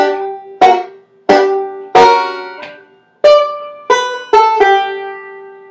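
A banjo plays a chordy Reno-style lick as a series of about eight sharp plucked attacks, some notes ringing and others cut short, close and clear with no talking.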